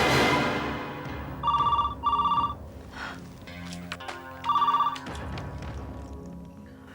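A telephone rings in two short electronic bursts, a pause, then another burst, over a busy indoor background with faint movement.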